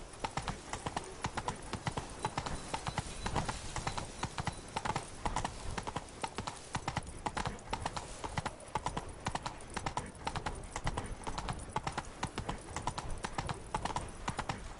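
Horse hooves clip-clop at a rapid, steady gallop in a fantasy video game, loud and continuous with occasional snorts; the mount is named Roach.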